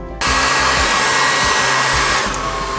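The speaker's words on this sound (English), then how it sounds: "what I'm going to do is heat this up with a little, my wife's hair dryer, so it's a little more pliable" A household hair dryer warms refrigerator dispenser water line tubing so a 1/4 inch adapter can be fitted. It switches on abruptly and roars with a loud, steady blowing hiss that holds close and constant throughout.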